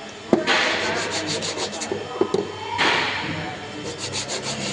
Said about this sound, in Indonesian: Lalu bersihkan pada brake pad menggunakan amplas di sini di tempat yang rata.